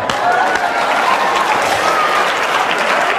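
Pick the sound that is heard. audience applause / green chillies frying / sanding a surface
audience applause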